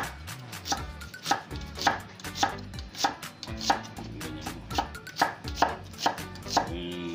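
Vegetables being chopped for a water spinach dish, a knife striking a cutting board in a steady run of sharp, close, loud chops with short pauses between them.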